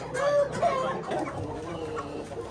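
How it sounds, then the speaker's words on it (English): Parrot Beak Aseel chicken clucking in a steady run of short calls, fairly close and continuous, with other fowl sounds mixed around it. "That is a beautiful chicken."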